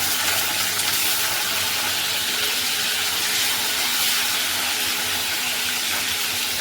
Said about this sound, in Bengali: করলাটা ভেজে নেব।